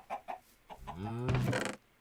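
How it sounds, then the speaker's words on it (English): Minecraft chicken clucking, a few short clucks followed by a longer rising squawking call, close and clear, with no talk over it. "Oh, here comes another chicken."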